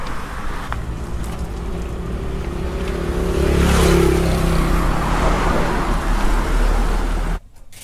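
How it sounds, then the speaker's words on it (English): Road traffic passes on a quiet street in Saraphi, Thailand. An engine rumble swells as a vehicle approaches close and then fades, over a low, steady motor drone that cuts off abruptly at the end. "it's a bit more traffic coming now"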